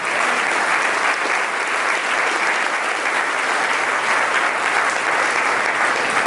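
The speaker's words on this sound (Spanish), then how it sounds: "Es un aplauso al Señor." A church congregation claps together, loud, dense and sustained applause filling the room without a break.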